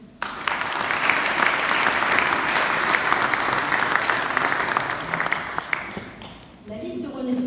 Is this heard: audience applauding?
yes